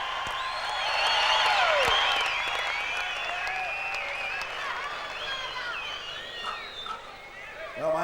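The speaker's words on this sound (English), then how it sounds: "In third placing, I think deserves a great big round of applause" Crowd at the 1993 Sydney Supercross Masters applauding the third-place 250 rider, a distant, diffuse wash of clapping and cheering in a large stadium, with whistles and shouts rising over it.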